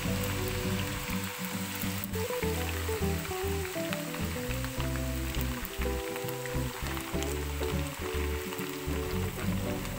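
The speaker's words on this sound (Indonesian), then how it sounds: "Sekarang kita goreng." Small-cut potato pieces, about 250 grams, fry in ample oil in a teflon pan over low heat, giving a loud, dense, continuous crackling sizzle heard alone without talk.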